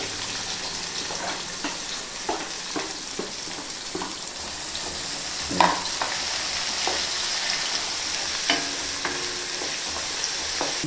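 Whole spices sizzle steadily in hot oil for a Telangana-style chicken curry, with repeated scraping strokes of a spoon stirring the pan, close and clear, with no talk.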